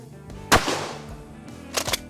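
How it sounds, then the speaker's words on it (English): One shotgun round fired into a target outdoors: a loud, sharp blast with a fading tail, followed by a few shorter, fainter bursts. "We're gonna fire 1 round into the target."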